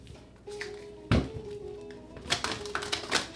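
A deck of tarot cards shuffled up close, with a soft initial slide, one hard riffle burst, then a run of quick crisp card flicks and taps, and no voices.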